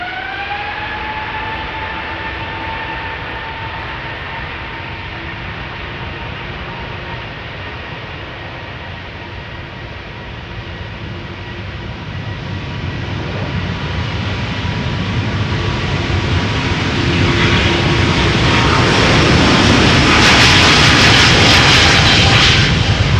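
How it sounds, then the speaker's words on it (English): Airbus A330 with CF6 jet engines spooling up for takeoff at Schiphol's Polderbaan runway: a steady whining roar with tonal hum that swells louder and broader over twenty seconds, heard from nearby without talk. "it is most definitely the CF6s of the A330 that you're hearing"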